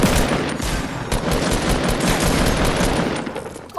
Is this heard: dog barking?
no